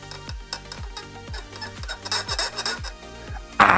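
RC car suspension support squeaking while being worked on: repeated short creaking squeals about every third of a second, close and fairly loud, with rasping scrapes and a sharp knock at the end.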